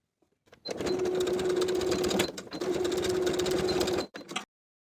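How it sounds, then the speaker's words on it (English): A sewing machine stitches in the ditch along the shoulder seams of a beach cover-up to hold the facing inside, humming in two steady close runs with a brief break between and a short final burst, no speech. "inside the shoulder seams on both sides, we're going to stitch in the ditch to keep that facing to the inside of the garment"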